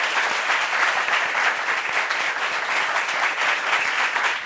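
Talk show studio audience clapping for a guest, dense and steady applause, loud and close, with no speech over it.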